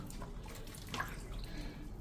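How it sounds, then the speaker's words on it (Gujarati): Butter made from cow's milk cream is washed by hand in water, giving soft continuous sloshing and splashing with a brief slap near the middle, close and fairly quiet, with no voices. "આવી રીતે તમારે એકદમ સરસ 2-3 પાણીએ હાથ ફેરવી અને માખણને ધોઈ નાખવાનું"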